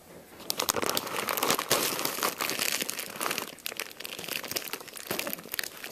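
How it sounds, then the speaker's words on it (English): Plastic packaging around a Pokémon plush crinkles and tears loudly up close as it is ripped open, in steady bursts of crumpling and ripping with no talking. "Just rip it open."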